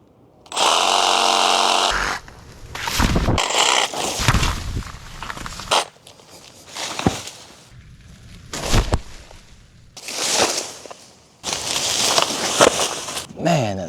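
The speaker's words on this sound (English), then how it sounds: "we're gonna be using a 12-inch pruning blade. Time to take these tops off." A 12-inch pruning blade, power-driven, chops the tops off home-grown banana plants in loud bursts of buzzing cutting broken by short pauses, close by, with brief talk between cuts.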